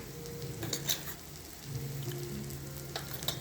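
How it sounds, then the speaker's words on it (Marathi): Onion-garlic masala spice mix roasts in a pan with a steady, soft sizzle and frying crackle, plus a few light clinks of a spoon stirring, close and alone. "हे मसाला भाजला गेला आहे।"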